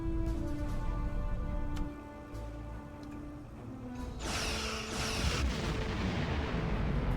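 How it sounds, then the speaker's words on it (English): Booming, rumbling weapon blasts from starships in a Star Trek space battle game, a sustained roar that swells into a heavier crackling burst partway through. "Target that ship and fire all weapons."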